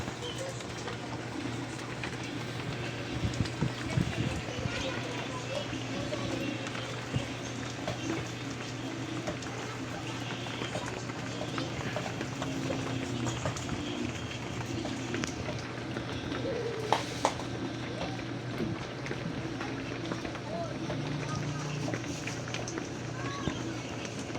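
Heavy rain pours down in a steady, dense hiss that continues throughout, with occasional pigeon cooing and faint voices in the background.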